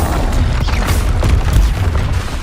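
The Confringo fire-blast spell detonates in Hogwarts Legacy, a loud, booming explosion with crackling, debris-like bursts that rumble continuously across the short span, close and forceful.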